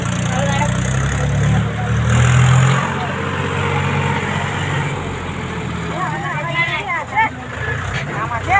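Vehicles inch forward in a morning traffic jam, a low steady engine rumble and idling drone filling the scene, with people talking nearby over the road noise.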